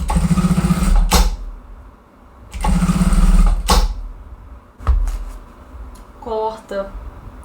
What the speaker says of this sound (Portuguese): Então a gente vai passar a costura